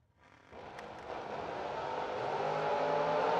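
A Camaro drag car launches hard down the strip, its engine roar jumping in at once and then building steadily louder and higher as it pulls away.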